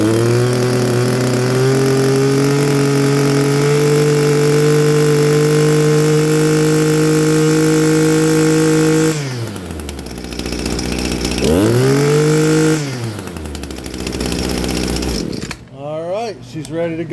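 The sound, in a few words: Echo SRM-261T string trimmer engine running at full throttle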